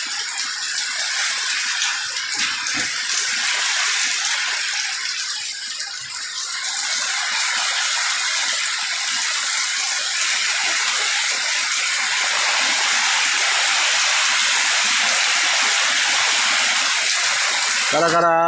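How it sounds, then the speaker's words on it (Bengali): Heavy rain pours down in a dense, continuous roar of falling water that stays loud and unbroken throughout, with no talking. "আজকে প্রচুর বৃষ্টি হচ্ছে"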